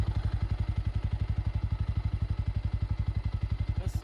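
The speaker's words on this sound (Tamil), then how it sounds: "இன்ஜினோட ஐட்லிங் சவுண்டும் கேட்டுக்கோங்க." A 2025 Bajaj NS160 motorcycle idles close by, its exhaust giving a steady, rapid, even thumping pulse that holds unchanged throughout with no voices over it.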